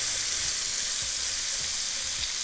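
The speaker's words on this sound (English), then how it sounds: "I'm gonna add in some butter as well as some onions." Butter and chopped onions sauté in a pan with a steady, loud sizzle. A few soft stirring scrapes come at a slow, irregular rhythm, and no one speaks.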